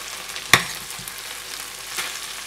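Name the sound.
white rice mixed into tomato thokku in a pan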